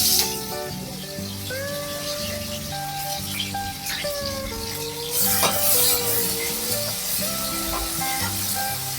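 Chili paste dropped into hot oil for Kathiyawadi-style urad dal, giving a steady close sizzle and frying hiss with occasional stirring scrapes, swelling louder midway.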